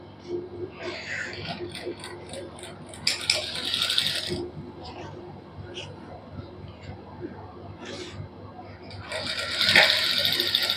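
Someone runs a sewing machine in short bursts, stitching lace onto a salwar. The machine whirs in brief runs with quiet gaps between them, while a person talks over the work throughout.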